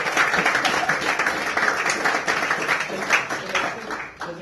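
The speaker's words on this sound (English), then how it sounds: "So look, round of applause for Elliot." Audience applause at a youth football club presentation evening, a dense, steady wash of many hands clapping in a room, loud and sustained before easing slightly at the end.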